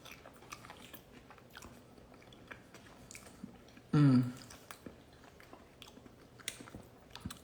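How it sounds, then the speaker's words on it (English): Close, crunchy biting into a lightly cooked stuffed tomato, followed by steady chewing and soft squishy mouth sounds, with one brief louder burst in the middle and no talking. "I like when the tomato isn't that cooked because you get like a little crunch"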